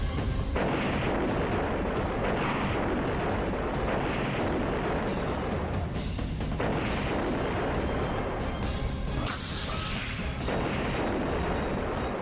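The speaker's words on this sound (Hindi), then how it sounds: "बीच सड़क पर रूस की सेना ने टैंक से हमला बोला" A tank fires during a street battle between Russian and Ukrainian forces in Odesa, a dense continuous roar of booms and blasts filling the whole stretch with barely any pause.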